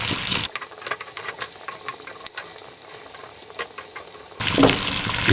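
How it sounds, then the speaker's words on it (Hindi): Mutton with garlic fries in a karahi, giving a close, crackling sizzle with scattered pops, louder bursts of hissing at the start and end and a quieter spell of frying between. "थोड़ी देर इसको मैं फ्राई करता हूँ।"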